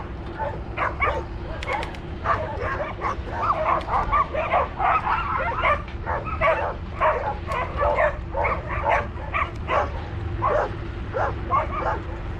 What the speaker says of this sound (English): Uh-oh, we got a dog that's loose right here.